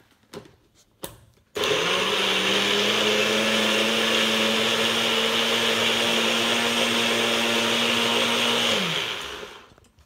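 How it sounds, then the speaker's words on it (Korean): A couple of brief knocks, then a blender whirs up loudly blending boiled cabbage into juice and runs steadily for several seconds before winding down. "이렇게 믹서기에 넣어서 돌려주면은 양배추, 삶은 양배추 주스가 완성이 됩니다."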